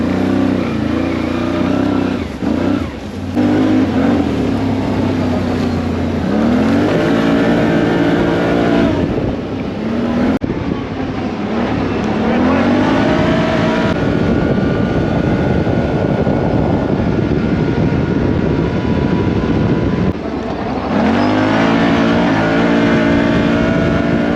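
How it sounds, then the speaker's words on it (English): A Can-Am off-road vehicle roars loudly up close on a motocross test lap, its engine repeatedly revving up and falling back as it works through the track, with a brief break near the middle and no talking. "just got the test lap done on the CANAM there"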